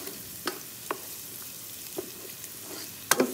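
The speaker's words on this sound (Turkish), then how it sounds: "Soğanımızı görüyorsunuz kızarmaya başladı." Onions and spinach frying in a pan, a soft steady sizzle with a few sharp clicks of a utensil against the pan, quiet and close, with no talking.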